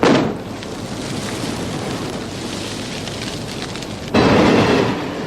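A special-effects explosion on a film set bursts loudly at the start and decays into a rumbling, hissing roar, followed by a second loud surge of noise near the end.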